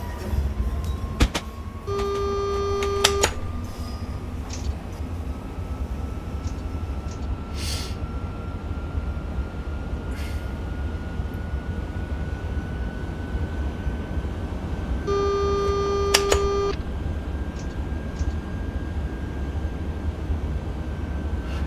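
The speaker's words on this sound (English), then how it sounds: "This is probably my favourite train, Dan." Class 395 Javelin electric train running on the South London network in Train Simulator 2018, a steady low rumble with a slowly rising motor whine and two brief electronic tone chimes, no talking.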